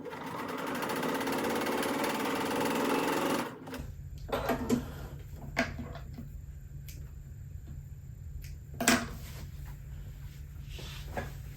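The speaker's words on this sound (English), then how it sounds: "I'm just going to run a stitch right down here" A sewing machine stitches a quilt seam, a steady close whirring hum for a few seconds that stops abruptly, followed by quiet handling clicks and knocks of fabric and machine parts.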